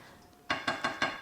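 Rice and water stirred in a pot with a utensil, four quick evenly spaced scraping knocks against the pot, close and fairly faint, with no talk.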